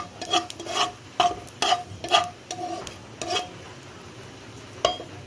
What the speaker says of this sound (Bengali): এই দুটো জিনিস ভালোভাবে তেলের সঙ্গে মিক্সড করে নিলাম